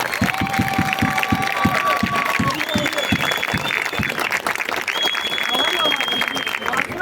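A large crowd applauds steadily, with whistles and cheers rising above the dense clapping throughout.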